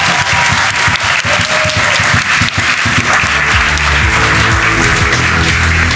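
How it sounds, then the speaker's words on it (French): A TV studio audience at a children's show applauds loudly and continuously at close range; music swells in beneath the clapping partway through. "On les applaudit."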